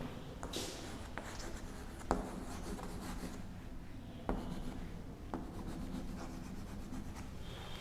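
A teacher writes an example sentence on a board during a grade-six grammar lesson, producing a steady, soft rubbing scratch of chalk or marker with a few sharper taps, close and continuous, with no talk.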